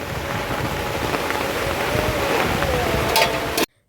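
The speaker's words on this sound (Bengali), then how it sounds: "এখন আরও জোরে হয়ে জোরে শুরু হয়েছে আর এখন বৃষ্টিটা কম ছিল তার সাথে এখন বৃষ্টিটাও শুরু হয়েছে ঝড়ের সাথে" Heavy storm rain pours steadily and loudly, a dense even hiss with a brief sharper burst near the end before it cuts off.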